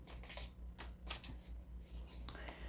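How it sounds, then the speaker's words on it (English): Tarot cards pulled and shuffled during a pick-a-card reading, giving soft papery riffles and slides in several quick bursts over a low background hum, fairly quiet and close. "let's pull some more cards here"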